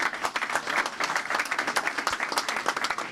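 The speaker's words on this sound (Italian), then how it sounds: "un grande applauso per cominciare a Matteo Salvini" Outdoor audience at a political gazebo event in Padova applauds to welcome Matteo Salvini, a lively, dense burst of clapping from a crowd with slightly uneven, pulsing intensity and no talk over it.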